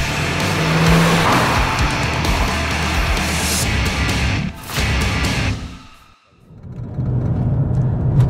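A 2022 Seat Ibiza FR with the 1.5 TSI engine drives hard, its engine and road roar loud and continuous, with tyre noise, a brief dip near the end, then the full roar again.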